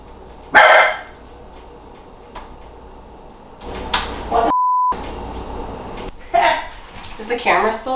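A dog on a North Idaho homestead gives a sharp, close bark, followed by further bursts of barking and indoor noise, with people talking and a short censor beep.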